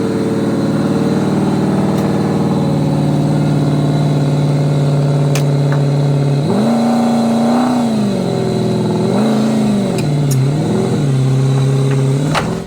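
A Nissan 240SX fitted with a V8 Corvette engine idles with a deep steady burble, then revs in several rising and falling pulls as it is driven off a trailer, loud and close throughout.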